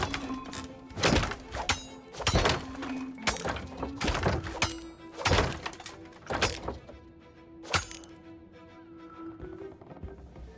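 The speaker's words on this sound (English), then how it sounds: "Attack the machine. Don't just stand there. Swing that sword of yours." Sword strikes land on a training machine in the Sea of Thieves video game: a series of loud, sharp thunks arrive irregularly every second or so over a steady low hum, with no talking.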